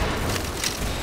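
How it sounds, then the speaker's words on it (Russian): Gunfire from towers in the Roblox game Tower Defense Simulator: a dense run of booming shots with a couple of sharper bursts, loud and continuous, with no voices. "Здесь стрельба, там пальба."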